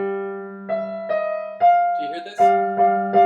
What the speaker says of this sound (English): Listen to this, just the first violin against the bass.